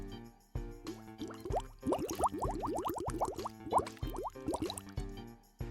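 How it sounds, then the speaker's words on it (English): Synthesized bubbling sound effect for a game, a rapid run of rising bloop pops bursting in clusters over a soft liquid bed, fairly quiet and close, with no voices. "I want a bloop, bloop sound."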